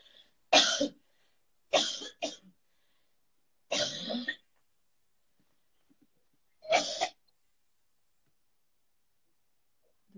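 A person coughs in four separate bursts, the second a quick double cough, close and fairly loud with silent gaps between them.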